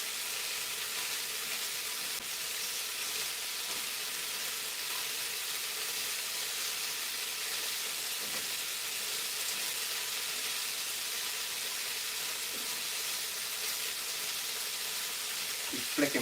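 Onions fry in a pan with a steady, dense sizzle that stays even and continuous throughout, broken only by faint stirring.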